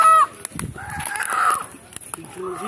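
A hen being moved by hand on a riverside farm gives short clucks and fowl calls close by, mixed with handling noise and brief bursts of rustling.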